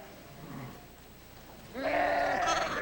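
Sheep bleat in a lambing shed, a single loud, close wavering bleat rising clearly after a quieter stretch of low murmuring.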